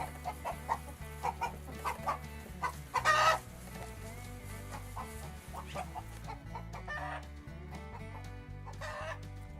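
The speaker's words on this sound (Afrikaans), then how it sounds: "'n hoender." A farm hen clucks in short, scattered calls over steady background music, with one louder squawk partway through and no speech.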